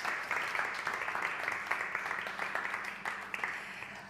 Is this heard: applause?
yes